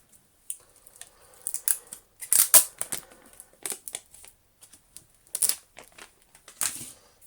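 Plastic wrapping peeled and crinkled off a new Tineco ModaOne smart hairdryer during unboxing, close and fairly loud in irregular bursts of crackling and tearing with short pauses between them, no voices.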